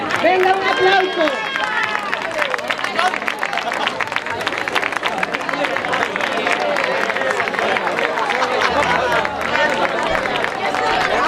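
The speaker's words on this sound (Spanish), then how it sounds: "Venga, un aplauso." Crowd applause at a junior women's rowing regatta in Galicia, continuous clapping and cheering mixed with crowd chatter and voices throughout.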